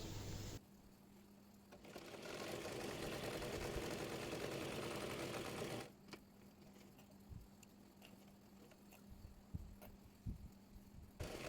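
A sewing machine stitches salwar fabric, running with a steady, close whir for about five seconds before stopping, followed by quieter clicks and handling noises.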